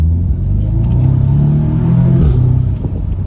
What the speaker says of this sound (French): Ça te pousse juste à entendre le bruit du passage rapport.